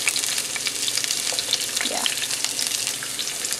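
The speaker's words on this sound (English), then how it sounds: "And you hear the sizzling?" Sliced vegetables sizzle in hot oil in a skillet, giving a loud, steady, crackling hiss throughout, with a brief spoken word partway through.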